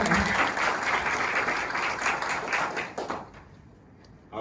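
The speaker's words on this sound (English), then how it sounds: "Let's give a big round of applause to the chairman." Audience applause for a chairman after a lecture at a seminar, steady dense clapping that thins and fades near the end before a brief loud burst returns.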